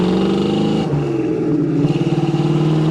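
A 1976 Pontiac Trans Am's engine revs up loudly from inside the car, drops briefly during a gear shift, then pulls again with a pulsing, throaty tone.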